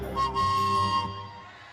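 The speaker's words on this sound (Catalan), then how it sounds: "el xiulet dels Reis." A whistle is blown at a Three Kings parade in Cornellà: one steady, shrill blast lasting about a second over a broad murmur of crowd noise, then fading.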